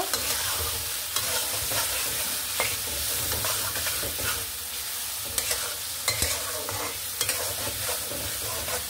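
Ridge gourd sautéing with chili powder in a pan, steady sizzling and frying with occasional stirring scrapes and clinks, close up, no talking.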